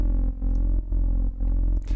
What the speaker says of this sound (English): To create this sub bass, I found another preset called Heatwave,